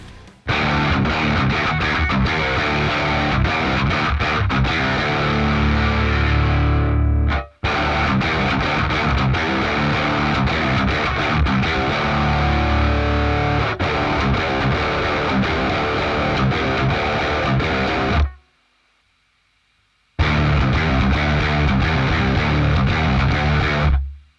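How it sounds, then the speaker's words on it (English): A metal guitar runs through the third distortion mode of a Darkglass ADAM, playing loud, heavily saturated chugging riffs in long sustained passages, broken by two brief stops, one of them nearly two seconds of silence. "another important step would be to use the third distortion mode"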